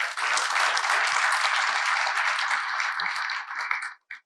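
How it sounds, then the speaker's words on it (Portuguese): At an agribusiness finance panel, the audience gives the panelists a full, even round of applause that fades out abruptly near the end. "Uma salva de palmas a todos."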